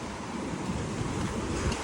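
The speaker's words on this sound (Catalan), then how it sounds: "Aquí les onades." Ocean waves breaking on a Tenerife shore, a loud, continuous wash of surf with steady roar and wind noise, no talking.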